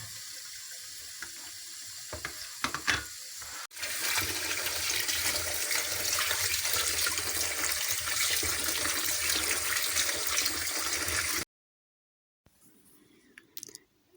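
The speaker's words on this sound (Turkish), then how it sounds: "Bol suyla güzelce yıkıyoruz bunları." Tap water gushes strongly over tomatoes being washed in a sink, a loud, steady stream after a few handling clunks, then cutting off abruptly before faint clatter returns.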